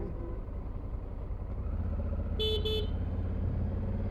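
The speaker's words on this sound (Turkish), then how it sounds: "Ben de kornaya basıyorum." A vehicle horn honks twice in quick succession, short bright toots, over the loud steady drone of a motorcycle engine riding through busy city traffic in Uzbekistan.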